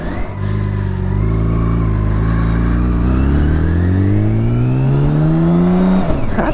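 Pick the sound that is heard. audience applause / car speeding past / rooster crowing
car speeding past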